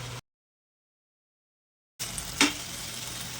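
A vegetable palya with kasuri methi fries in a pan and is stirred, a steady close sizzle with one sharp scrape of the spoon, after a brief gap of silence.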